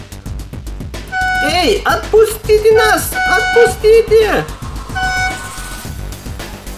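A cartoon car sounds its horn in a few sustained honks while excited animated voices shout over and between them.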